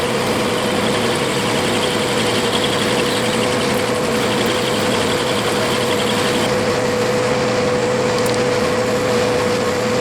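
Metal lathe turning and parting off waste stock from a pulley for a King Midget car's steering; a loud, steady machine drone with a constant whining tone runs throughout, no talk.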